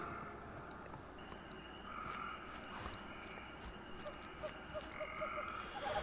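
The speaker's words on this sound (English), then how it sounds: "you can hear the frogs are croaking" Frogs croak in a damp area of the video game Uktena 64, several small ribbiting calls repeating in short bursts over a soft ambient background, fairly quiet and without speech.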